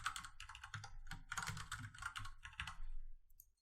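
Fingers type a password on a computer keyboard in quick clustered bursts of light key clicks, close and clear, with short pauses between runs.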